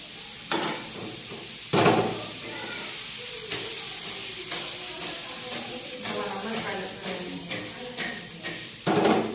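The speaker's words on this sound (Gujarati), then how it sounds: "ભીંડાનું શાકનો વઘાર થાય છે" Hot oil sizzles steadily with a few sharp bursts of crackling as mustard and cumin seeds temper for okra curry, along with scraping and stirring noises and some background chatter.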